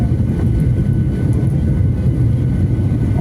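Passenger jet on an India to Dubai flight coming in to land, heard from inside the cabin as a loud, steady low engine and airflow roar throughout.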